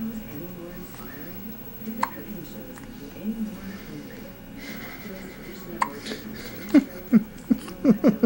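A newborn girl's hiccups come as small, sharp catches, sparse at first, then quicker and louder toward the end, heard close up alongside soft adult murmuring.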